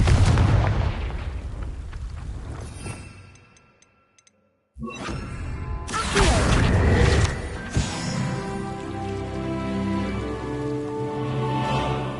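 A Confringo blasting spell goes off in the Hogwarts Legacy video game, a loud explosive burst after a brief silence, followed by crackling debris and a rumbling game soundscape.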